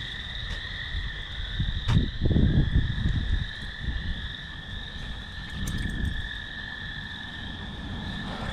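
Crickets chirp in a constant, shrill chorus outdoors, with brief rustling and movement close by partway through.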